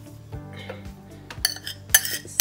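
Metal utensils clink and scrape against a pot in a few sharp, bright hits, close up and with no talking.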